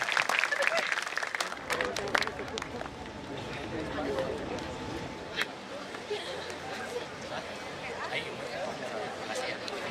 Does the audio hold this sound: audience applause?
yes